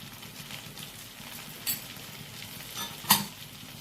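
Slit green chillies and capsicum fry in a pan for a parshe fish masala curry, a quiet sizzle under gentle stirring, with two clear clinks of a spoon against the pan, the second louder.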